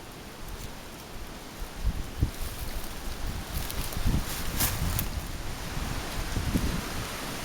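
Strong wind gusts straight through a railroad tunnel, a broad rushing roar with buffeting bursts that swell and fade, close to the microphone and with no voices.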